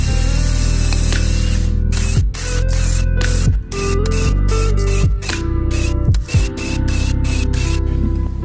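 A power drill bores a 2 mm pilot hole for a wood screw. Its loud, steady motor whine is broken by several short dips and surges as the bit starts, bites and is eased off, with no talking.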